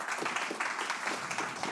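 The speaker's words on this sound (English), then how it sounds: "let's give him a round of applause." Conference audience at the Lean & Green International summit applauding, a brief, dense patter of many hands clapping, fairly faint and steady.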